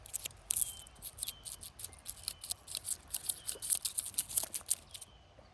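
Dried straw flowers in a vegetable garden rustle with crisp, papery crackles, a rapid irregular series of light dry rattles heard close up and fairly quiet, with no talking.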